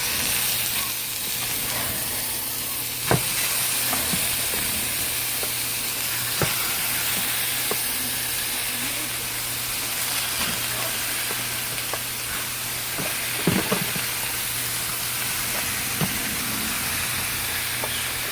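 Pork frying for Filipino adobo in a pan, a steady loud sizzle and hiss throughout with occasional pops and faint stirring clicks.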